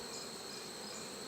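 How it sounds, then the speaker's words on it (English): Buckfast honey bees in a hive give off a steady, dense buzzing drone, close and constant throughout, with no voices. "there's a lot of bees in this hive"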